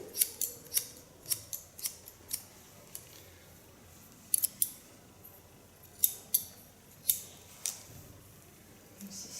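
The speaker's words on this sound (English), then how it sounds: "the nice thing of this scissor is ultra sharp, so I can really make a difference in cutting hair" Large ultra sharp scissors cutting hair during a short feminine haircut, a series of crisp metallic snips in irregular bursts, close and clear with no talking.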